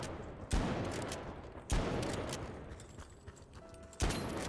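A repeater rifle in the shooter The Finals fires three sharp, loud single shots a second or more apart, each followed by a long decaying echo over continuous background gunfire and battle noise.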